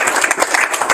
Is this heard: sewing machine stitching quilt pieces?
no